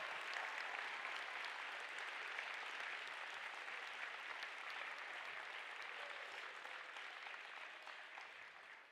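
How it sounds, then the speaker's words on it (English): A crowd applauds the participating teams at a robotics league tournament, a steady, even wash of many hands clapping that holds for several seconds and fades slightly, heard from a distance. "Let's give a big round of applause for all of the teams that participated here today."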